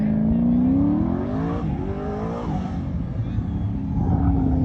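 An autocross car's engine works on course, a loud, droning note that rises and falls as it revs, shifts and dips through corners, heard continuously and fairly close.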